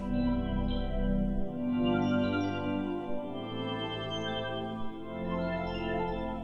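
A sustained chord progression with deep bass notes underneath, several chords changing slowly and smoothly, played alone without talking.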